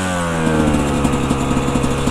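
A Barode 125 YZ motorcycle engine runs close and loud, its buzzing note climbing slightly in pitch with a rapid, steady pulsing throughout.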